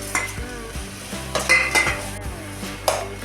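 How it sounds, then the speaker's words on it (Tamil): Sliced capsicum strips frying with tomato in a pan, with a steady sizzle broken by several scraping stirs of a spoon against the metal, close and moderately loud, with no talking. "இப்போ ஒரு குடமிளகாயை இது மாதிரி நீல வாக்கில் கட் பண்ணி வச்சுருக்கேன், இதையும் நம்ம இது கூட சேர்த்துக்கலாம்."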